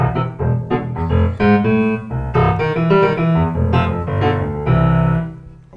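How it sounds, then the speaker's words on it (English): A Kawai digital piano set to a fast attack and zero decay gives a short, percussive, clavinet-like tone, its notes plucked in quick succession as a lively phrase with no voices. "fast attack, zero decay. That's like a clavinet."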